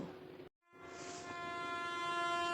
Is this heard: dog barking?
no